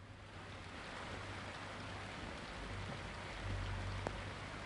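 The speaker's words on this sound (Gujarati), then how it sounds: "ધોધમાર વરસાદ થયો" Steady, dense hiss of heavy monsoon rain falling at moderate loudness in Amreli district, Gujarat, continuous and even, with a low hum underneath and no voices.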